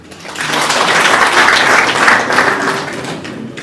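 Guests at a Rwandan wedding ceremony applauding, a swelling wash of clapping that builds, holds fairly loud and then fades a little toward the end.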